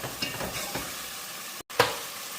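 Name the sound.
stirring and sautéing onion, tomato, ginger, garlic in pan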